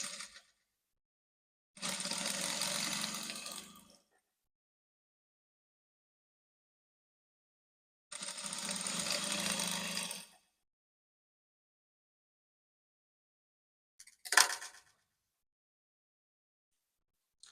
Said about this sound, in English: you can top stitch on it to make it relax